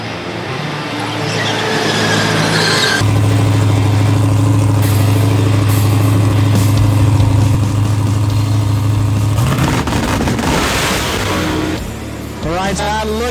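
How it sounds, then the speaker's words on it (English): A drag race car at an NMCA event roars off the line in a wheels-up launch and pulls hard down the track, a loud sustained engine blare that dominates throughout, heard from trackside. "Right side, look at the wheels up launch for Tony Scott"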